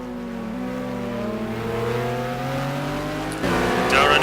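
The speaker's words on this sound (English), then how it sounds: "The Ferrari starts to pull away from the Porsche." Ferrari and Porsche race car engines in a sim racing game at the Phakisa circuit, a loud sustained whine that rises steadily with revs, then a sharp gear change and renewed acceleration near the end.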